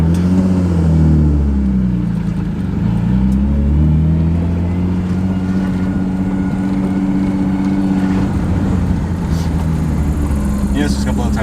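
A Nissan 300ZX twin turbo on an E85 tune, making 470 wheel horsepower, drives on the road. The loud engine drone climbs in pitch and then holds a strong steady roar, with people talking over it.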